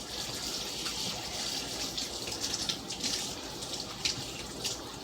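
Hands are washed under a running kitchen sink tap while pork shoulder is prepared, a steady splashing stream of water at moderate level close by with no speech.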